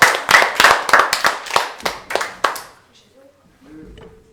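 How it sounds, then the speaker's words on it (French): Hands clap about a dozen times in a slowing, uneven rhythm at a French radio show, sharp and close, then fade out, with a brief voice afterward. "on peut l'applaudir, bravo"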